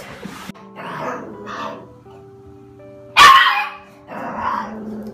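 A dog barks and growls in short bursts indoors, with one louder sharp bark near the end and low rumbling growls between.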